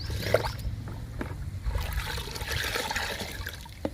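Plant liquid is stirred into water in a bucket: soft sloshing and trickling swirls, fairly faint and close, with a few small splashes and knocks against the bucket.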